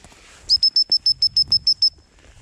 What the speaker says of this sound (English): I've also given him the whistle command.